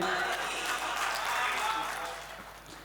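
An audience at a Hindi poetry recital applauds, a dense wash of clapping that swells and then tapers off over a few seconds, with voices mixed in.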